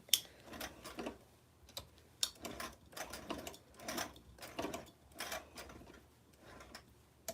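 A sewing machine stitching a western blouse, running in short bursts of rapid mechanical ticking and back-stitching, fairly quiet and close with brief pauses between runs.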